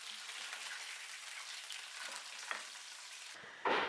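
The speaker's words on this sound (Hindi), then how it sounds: "ये कोफ्ते हमारे फ्राई हो गए हैं।" Meatballs (kofta) frying in oil in a pan give a steady, soft sizzle and crackle, with a louder clatter at the very end and no talking.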